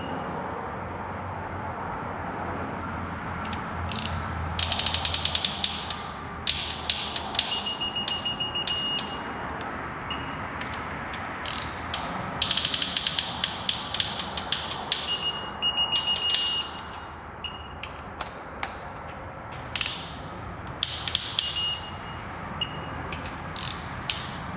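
A torque wrench tightening cylinder head bolts on a Ford 3.5 EcoBoost engine from a 2013–2014 F-150, repeated metallic ratcheting clicks in short bursts over steady background hum, close and fairly quiet.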